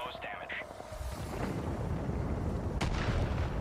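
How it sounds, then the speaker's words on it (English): Mortar rounds firing and landing in the video game Far Cry 5, its Hours of Darkness DLC, heard as a low rumbling boom that swells and lingers, with a sharp crack near the end and faint voices early on. "Alright, I'm doing a mortar."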